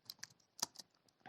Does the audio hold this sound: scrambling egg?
no